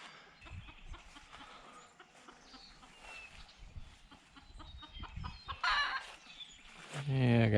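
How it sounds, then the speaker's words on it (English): Bantam chickens, including Easter Eggers and golden Sebrights, cluck and chatter in a small countryside flock, with fowl calls scattered throughout and getting louder toward the end over outdoor background noise. "I got some little banty chickens down there."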